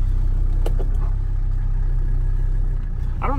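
Mercedes 300D diesel car with rebuilt injectors pulling away, a steady low engine drone with a few faint clicks, close and continuous, ending with a brief chirping noise.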